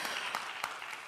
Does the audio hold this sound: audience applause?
yes